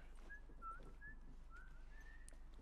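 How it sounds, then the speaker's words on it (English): Ellie, the teenage girl in The Last of Us Remastered, whistles a soft, wavering tune of short rising and falling notes over a steady low in-game hum. "She finally learned how to whistle."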